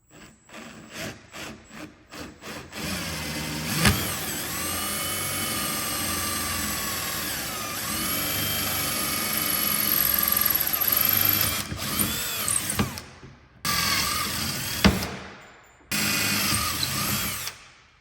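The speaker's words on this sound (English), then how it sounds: "Now I'm gonna drill them down into the cabinet." Drill driving screws down into a cabinet, a close, loud sustained motor whine with rising pitch as each screw bites into the wood, broken by short clicks and pauses between bursts.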